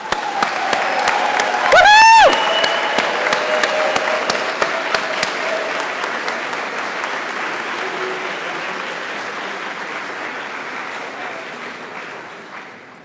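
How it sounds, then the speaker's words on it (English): Applause from the crowd at a nursing pinning ceremony for the BSN class of 2019 rises into a loud, sustained clapping with a brief cheer or whistle early on, then slowly thins and fades out. "let's give a round of applause for the BSN class of"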